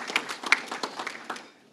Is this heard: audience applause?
yes